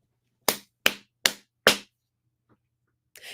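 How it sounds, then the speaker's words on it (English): Four sharp hand claps land about half a second apart, close and crisp, followed by a brief pause and a faint rustle at the end. "Now you have to clap."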